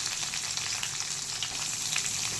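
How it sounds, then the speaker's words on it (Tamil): Sliced onions, green chillies and curry leaves frying in hot oil for beef pepper gravy, a steady, even crackling sizzle close by with no talk. "நல்லா கோல்டன் ஃப்ரை வர வரைக்கும் வதக்குங்க"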